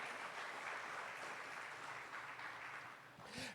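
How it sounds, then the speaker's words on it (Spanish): A church congregation applauds, a steady wash of many hands clapping together that sounds somewhat distant and soft, then fades slightly at the close. "denle ese aplauso a Jesús"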